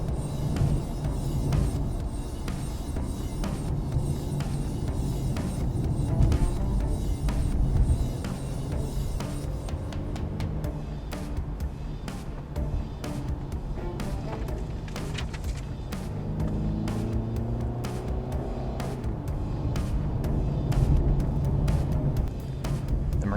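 A 2017 Mercedes-Benz C-Class Coupe driving through tight corners gives a steady engine and road drone from inside the cabin, with low rumbling and occasional thumps throughout.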